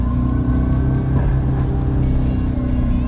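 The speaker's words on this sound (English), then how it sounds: "You hit the power shot and like a speaker comes in, it sounds like there's an engine all of a sudden." A simulated engine sound played through the speakers of a 2025 Charger Daytona EV: a low, steady hum drones continuously at close range, even and unchanging, with a smooth synthetic rumble rather than a rising rev.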